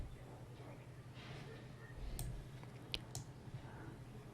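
A few sharp mouse clicks on a computer, spaced around the middle and later part, faint against a low steady hum and room noise.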